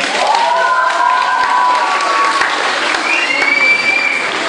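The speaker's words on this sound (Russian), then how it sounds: "а сейчас прошу аплодисментов" Steady applause from an audience at a children's summer camp "Miss" pageant, dense and continuous throughout, with cheering and whistle-like tones rising above the clapping.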